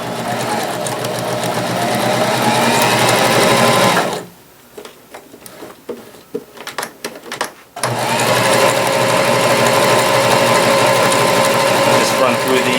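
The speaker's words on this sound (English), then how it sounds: "And then I'm going to show you some of the fun stitches that we have here." A Janome HD3000 sewing machine runs decorative stitches in steady, loud mechanical whirring bursts, stopping for a few seconds of quieter clicks and handling noise before resuming, with a voice talking over it.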